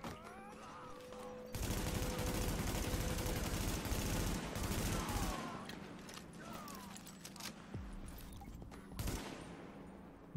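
Rapid bursts of automatic gunfire in the video game The Division rattle loudly for several seconds, then ease into scattered shots and mechanical clatter with faint voices in the background.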